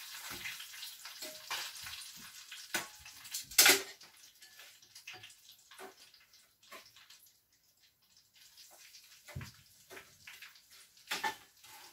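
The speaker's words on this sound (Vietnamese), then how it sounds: "chiên nhanh lắm các bạn ạ, cho vào chỉ một tí là đã vàng rồi" Tùng Nhung mushrooms deep frying in a pan, with soft bubbling oil and scattered clinks and stirring scrapes, a sharp clatter near the start, fairly quiet overall and without talk.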